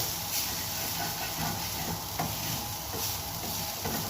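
Rice cooking in a pot on a stove gives off a steady, soft hiss of steam, continuous and even with faint bubbling beneath it.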